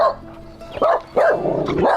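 A dog barks close by, giving three or four loud, short, yappy barks in quick succession, each ending with a whiny tail.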